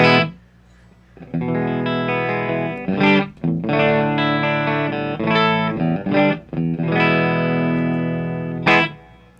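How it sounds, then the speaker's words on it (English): Electric guitar played with a clean tone through a pedalboard rig: close, loud chords and single notes that ring out with brief pauses between phrases, and no one speaking. "We should probably demonstrate our clean tones."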